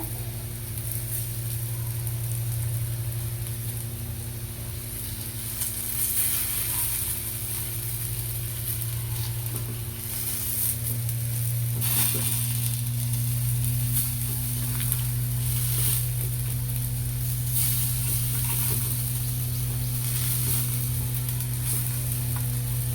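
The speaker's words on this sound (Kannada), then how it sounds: "ನೋಡಿ ಎಷ್ಟು ಚೆನ್ನಾಗಿ ಫ್ರೈ ಆಗ್ತಿದೆ" Raw banana slices frying in oil in a pan, a continuous close sizzle and crackle with occasional stirring and turning sounds over a steady low background hum, no voices.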